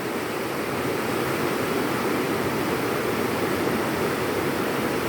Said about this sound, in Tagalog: Kusog kayo ang tubig.